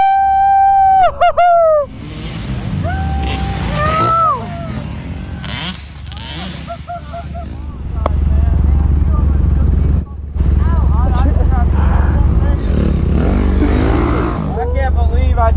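Dirt motorcycle revving and roaring near then far as it launches across two table-top jumps, engine whine rising and falling, with people shouting and talking over it.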